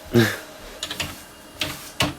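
A few sharp clicks of keys on a USB computer keyboard, sparse and close, with short pauses between them.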